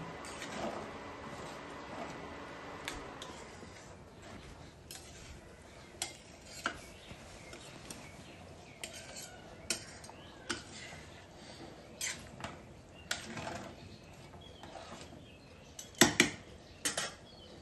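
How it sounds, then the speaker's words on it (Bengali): Spoon clinking and scraping in a pot while mixing a vegetable khichuri made with daliya and oats, soft intermittent knocks and scrapes at a steady pace, close and quiet. "এবার ভালো করে নেড়ে চেড়ে মিশিয়ে দেবো।"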